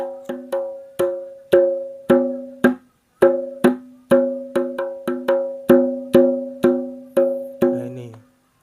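A kendang drum with a cowhide head struck by hand, giving a series of resonant, ringing tuned hits at an uneven rhythm with short pauses, heard up close.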